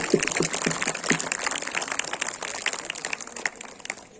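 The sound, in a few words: applause for a teacher at KVS Foundation Day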